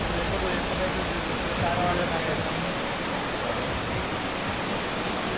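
Chakratirtha waterfall in Keonjhar, Odisha pours in a steady, unbroken roar of rushing water, dense and even throughout.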